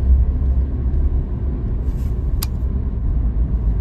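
Vehicles rumble steadily through a road tunnel near Rohtang Pass in snowfall, a loud continuous roar of traffic with a brief high hiss partway through.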